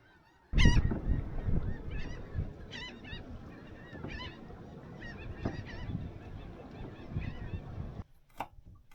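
Geese honk loudly and repeatedly near a quiet anchorage spot while sailing in the Windward Islands, with sharp overlapping calls over a busy low rumble that stops abruptly before a final faint honk.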